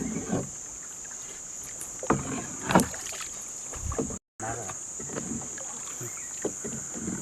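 Small boat paddled on water while fishing, with soft irregular splashes and paddle strokes over a faint steady background hiss, with a brief dropout midway.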